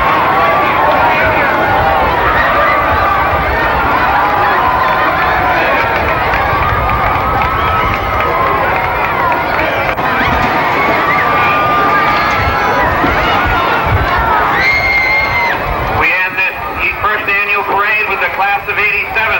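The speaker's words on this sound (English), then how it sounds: "Let's hear it now. Everybody cheer." A crowd at a Fridley high school event cheers and shouts loudly in a sustained roar of voices and noise, with a sharper burst of shouting near the end.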